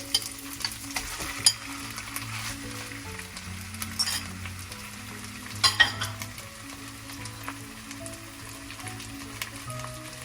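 Chicken for chow mein fries in a hot pan, giving a steady close sizzle broken by occasional clinks and scrapes of stirring, with faint music or tones running underneath.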